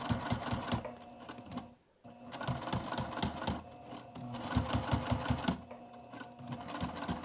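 A sewing machine stitches the binding on a dual-zip crossbody bag in a rapid, rhythmic chatter. It runs in close bursts with short pauses between them.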